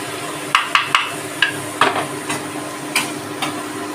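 Poppy seeds frying in a pan with little oil, a soft sizzle under repeated sharp scrapes and taps of a spoon stirring against the metal, close and clear.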